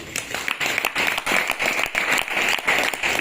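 An audience claps together at a spiritual discourse, a dense, continuous patter of many hands that swells and dips slightly, with faint voices mixed in.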